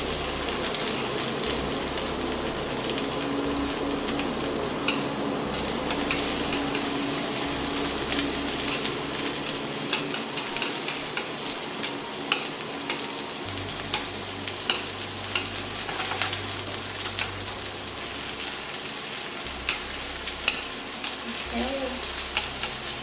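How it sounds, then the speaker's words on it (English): Onions frying in a pan for a Japanese lamb curry, a constant sizzle with frequent quick scrapes and clicks of stirring, close and steady throughout with no speech. "Have to be patient"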